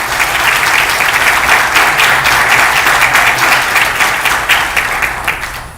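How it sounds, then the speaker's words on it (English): Audience applauding a civil rights attorney at a university speaker series, loud dense clapping that sustains evenly and begins to taper near the end. "Give him a round of applause."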